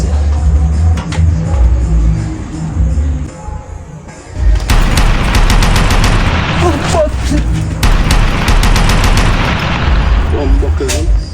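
Rapid bursts of gunfire crack loudly over booming, rumbling background noise, with several sharp shots clustered in quick sequences.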